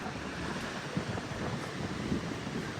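Rough, choppy sea surf rolls onto a beach on a gusty day after rain, a steady close roar of breaking waves with wind buffeting the microphone and no pauses.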